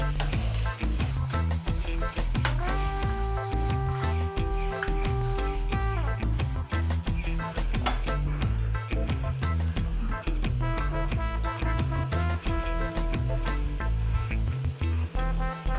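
Egg noodles with masala are stirred in a hot pan, a steady sizzle and scraping of frying noodles running beneath loud, rhythmic background music for the whole stretch.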